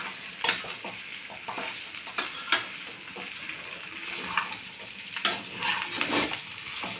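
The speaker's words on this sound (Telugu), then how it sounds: "ఇలా చిన్నగా కలుపుకోవాలి" Pasta being gently stirred in a full pan, with soft sizzling and irregular scraping and clinking strokes of a spoon, close up and moderately quiet.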